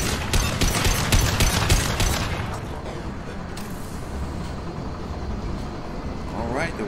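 Inferno grenade exploding in Mass Effect 2, a loud burst of crackling, booming noise up front that settles into a rumbling, fiery roar, with a voice speaking over it.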